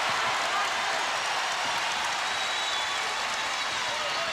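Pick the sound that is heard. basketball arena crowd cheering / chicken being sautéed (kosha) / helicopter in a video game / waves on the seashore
basketball arena crowd cheering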